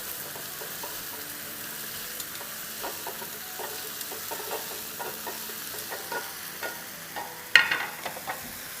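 Sliced boiled eggs folded into yogurt masala in a pan for anda gotala: a low sizzle with a run of light, rhythmic stirring taps and scrapes, ending in a sharper, louder scrape near the close.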